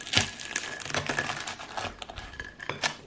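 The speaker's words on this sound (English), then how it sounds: "I need to cut it open because otherwise that will literally burn my mouth." Plastic film on a puffy microwave curry sauce and chips meal crinkles and tears as it is cut open, a string of sharp close crackles and pops with no talking.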